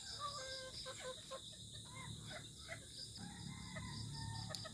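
Backyard chickens trail a person around a small garden plot, clucking and calling faintly in a quiet outdoor setting, with crickets chirring steadily in the background.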